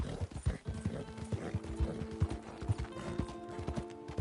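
Horse hooves clip-clop at a steady walking rhythm in Red Dead Redemption 2, with faint creaks of tack and a soft tonal hum under the hoofbeats, fairly quiet.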